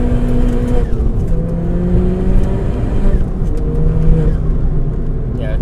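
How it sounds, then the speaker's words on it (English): A Ford Fiesta ST200 accelerates hard through its gears on a flat road, the engine note climbing and then dropping at each shift several times, heard from inside the car. "let's put it through some gears now"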